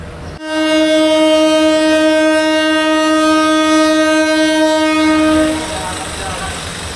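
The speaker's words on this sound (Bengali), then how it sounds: "সঠিক সময়ে ট্রেন ছেড়ে দিল সিলেট থেকে।" The Jayantika Express sounds a loud, sustained horn blast of about five seconds as it departs Sylhet station, followed by fainter rumbling of the train.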